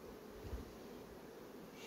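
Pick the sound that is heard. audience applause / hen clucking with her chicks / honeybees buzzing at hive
honeybees buzzing at hive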